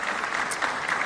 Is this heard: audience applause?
yes